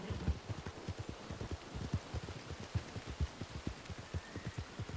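Horse hooves clip-clop in Red Dead Online in a steady, even trotting rhythm of soft, close thuds, with no talking over them.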